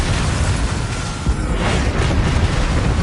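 Bombarda spell blast in Hogwarts Legacy, a loud, continuous rumbling explosion with dense low booming and crackling bursts filling the whole moment.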